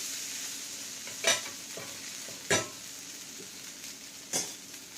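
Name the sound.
jowar dosa frying on a pan, being flipped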